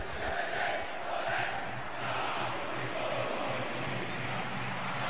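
São Paulo supporters in a packed stadium chant rhythmically for striker Aloísio during a 2013 Brasileirão match against Vitória, a dense, steady roar of many voices with rising swells, heard from the stands at a distance.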